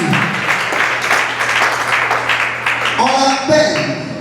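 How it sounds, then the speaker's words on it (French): Conference audience in Kinshasa clapping steadily in dense, continuous applause, with a voice speaking over it and a brief shift in the crowd noise near the end. "Acclamez encore pour lui, acclamez pour lui."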